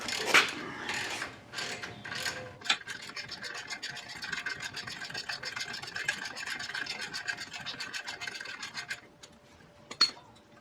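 A ratchet working on the brake caliper nuts of a 1991 Toyota pickup, a close, fast continuous clicking run lasting several seconds, with a few sharper metallic knocks at the start and end.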